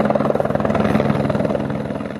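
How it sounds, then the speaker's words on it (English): Helicopter used for capturing pregnant mountain caribou in late winter, heard as a loud, steady rotor chop with a rapid regular beat and a droning engine hum, close and continuous. "They started capturing some of the pregnant females in the late winter with the help of a helicopter."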